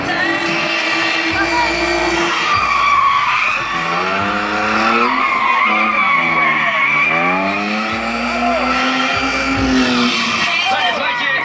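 Stunt show cars drive toward each other and skid at a theme park arena, long squealing tire slides rising and falling over engine roar, loud and continuous, with crowd and announcer sound mixed in.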